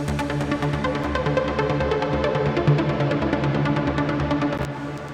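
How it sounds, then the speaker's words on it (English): A heavily detuned synth lead layer from Serum plays alone, a thick, buzzing sustained tone pulsing with rhythmic notes at steady loudness and ending with a brief bright burst. "So it's one heavily detuned layer in Serum, which sounds like this on its own."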